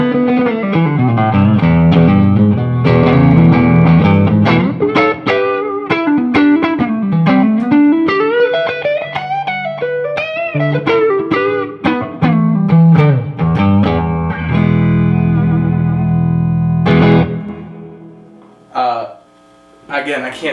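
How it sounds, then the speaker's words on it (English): A Ceriatone OTS 20 amp with its preamp boost engaged carries a loud, pushy driven electric guitar through a long run of melodic single-note lines and ringing chords, with no talk over it. "with the preamp boost engaged, not with the overdrive channel, just the preamp boost, it kind of really sounds like a very pushy amp"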